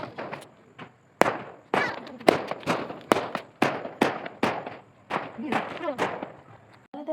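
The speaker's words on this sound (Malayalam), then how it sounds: "ഭയങ്കര സൗണ്ട് കേൾക്കുന്നൊരു പടക്കം പൊട്ടുന്നത്" Firecrackers burst at a village wedding celebration at night, a rapid irregular series of sharp loud cracks and bangs, some close and some farther off, with crackling tails between them.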